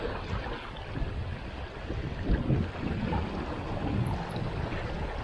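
Steady, blustery wind roars across an open microphone beside the Bystrytsia Solotvynska river in Ivano-Frankivsk while fishing, low rumbling gusts swelling and easing with a watery wash beneath.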